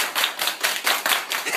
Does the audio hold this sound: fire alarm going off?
no